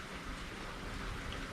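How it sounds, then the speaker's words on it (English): Early morning rain pouring down in drought-stricken Central Texas, a dense, even hiss of drops striking surfaces all around, steady and fairly loud with no voices. "they had predicted rain. We are getting some right now."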